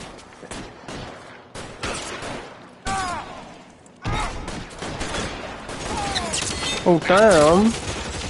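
Gunfire rings out in an L.A. Noire shootout, several sharp shots scattered among loud shouting voices, with a crash and a whistling, warbling tone late in the exchange.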